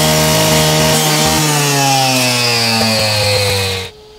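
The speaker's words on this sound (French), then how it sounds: "Tu peux utiliser la meuleuse." An angle grinder cuts hard material while an entrance driveway is being paved, giving a loud, continuous, close abrasive whine that runs steadily and then stops abruptly near the end.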